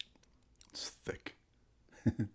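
Close crunchy chewing of burnt popcorn alongside a white chocolate mocha Frappuccino, a few brief bites and chews in quick succession with a soft lip smack earlier.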